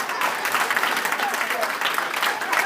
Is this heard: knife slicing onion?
no